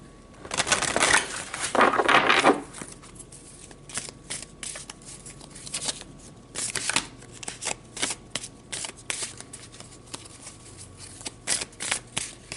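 Tarot cards are riffled and shuffled in a loud burst, followed by a series of shorter rhythmic shuffling snaps, close by and without talk.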